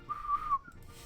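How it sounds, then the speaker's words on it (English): A short, clear whistled tune from a character in the Higurashi visual novel, a single sustained melodic phrase that bends and fades, quiet and alone. "Satoko was whistling while rather deliberately trying to avoid eye contact"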